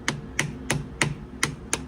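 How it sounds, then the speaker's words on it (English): Six sharp metallic hammer taps ring out at an even, unhurried pace against a lathe compound, each strike crisp and close with a short ringing tail in a quiet shop. "Hit it with your hammer until this dial reads 0."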